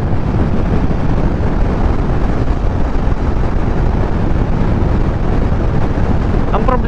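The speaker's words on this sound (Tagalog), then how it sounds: "Ay, malakas yung hangin ah." Strong wind roars steadily across the microphone while riding a Honda Click 125i scooter at speed, a loud, dense, unbroken rumble that masks most other sound.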